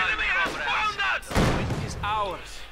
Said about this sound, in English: Panzer Grenadier moving up and coming under immediate fire.